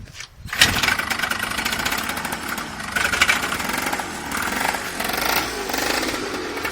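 An Alfa Moto Tiger motorcycle engine catching and then running at close range, a steady rapid chugging idle with a rough mechanical rattle that swells slightly now and then.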